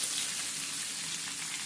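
Onions go into a pan already frying garlic and urad dal, giving a soft, steady sizzle with a faint crackle, quiet and continuous throughout.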